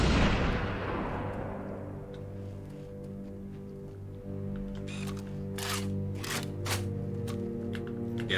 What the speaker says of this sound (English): I think the sniper rifle gunshot sounds better.